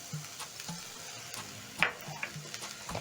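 Diced onion and garlic sauté in hot cooking oil, giving a quiet, steady sizzle broken by soft scrapes and a few light clinks of a utensil stirring the pan.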